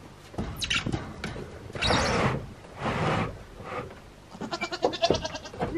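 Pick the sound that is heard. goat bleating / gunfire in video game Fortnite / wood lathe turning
goat bleating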